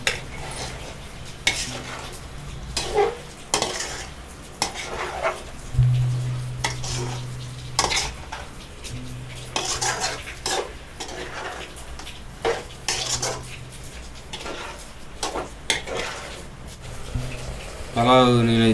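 Chicken masala with garam masala, curry leaves and mint is stirred in a pot, giving repeated scraping and clinking strokes over a light sizzle, with steady rhythmic stirring near the microphone.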